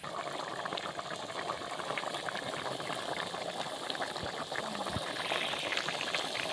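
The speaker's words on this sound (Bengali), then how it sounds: "এখন আমি তরকারি ভালোভাবে ফুটে ওঠার জন্য অপেক্ষা করব।" A pot of ghugni curry boils on the stove, a steady low bubbling and simmering hiss with occasional soft pops, continuous and fairly quiet, no voices.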